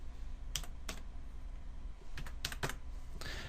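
Fingers tap on a computer keyboard in short bursts of clicky keystrokes with a brief pause between them, recorded close in a quiet room with no talking.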